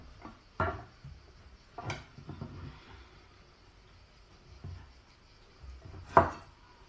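Baking sheets made with whole-wheat flour and honey for a chocolate cake are cut with a pan bottom, giving a few sparse, dull knocks and scrapes on a hard surface, close up, with no talking.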